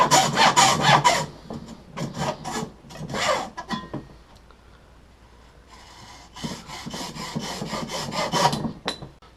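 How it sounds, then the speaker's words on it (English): Common hacksaw cutting through a graphite fishing rod, rapid rasping strokes in close bursts, with a quieter pause in the middle before another run of sawing. "I've just used a common hacksaw"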